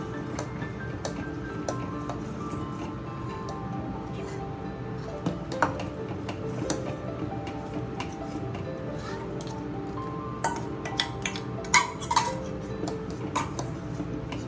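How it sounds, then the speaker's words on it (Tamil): Food in a cooking pot with milk is stirred, a ladle scraping and tapping against the pot in irregular clinks under a steady background hum, while a person talks. "நல்லா கலக்கி விட்டுருங்க, இல்லைன்னா அடியில் பிடிச்சிக்கும்."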